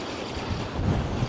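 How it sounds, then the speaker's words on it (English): Strong, relentless wind buffeting the microphone on a shore during winter bass fishing, with rough waves washing in; a brief, loud, noisy rush with no speech. "Wow, this wind is relentless."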